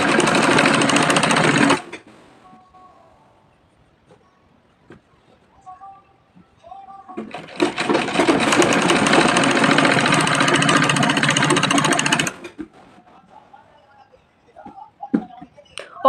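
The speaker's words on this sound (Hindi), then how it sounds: "दोनों साइड को इकट्ठा करके ज्वाइन करके फिर हमें 1/2 इंच गैप करके हमें इसको स्टिच करनी है।" Sewing machine stitching the side seams of a frock with a half-inch allowance, two loud sustained runs separated by quieter handling noises, close up.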